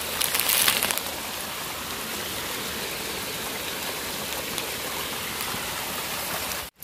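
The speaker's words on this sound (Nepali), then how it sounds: "असाध्यै पानी परेको छ" Heavy rain pours steadily at Jaya Jharana waterfall in Rolpa, Nepal, a dense, continuous broadband wash that stays loud throughout, with a brief patter of drops near the start and an abrupt cutoff at the end.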